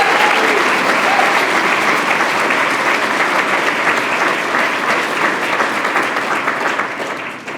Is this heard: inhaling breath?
no